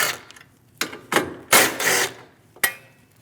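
A ratchet works loose the 10mm bolts on the hood latch bracket of a 2016-2025 Chevrolet Malibu 1.5L, giving several close, sharp clicking bursts with short pauses between.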